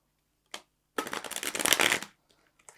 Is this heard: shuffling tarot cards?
yes